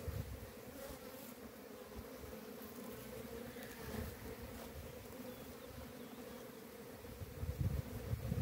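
Honeybees buzz in a dense, steady drone at an opened two-queen beehive, close and continuous, swelling slightly toward the end.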